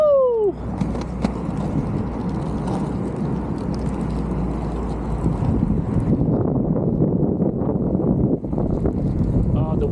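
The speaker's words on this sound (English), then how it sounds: "The wind just picked back up again." Strong gusts of wind buffet the microphone outdoors on a very windy day while a rollerblader skates, making a continuous loud rumbling roar that shifts in intensity throughout.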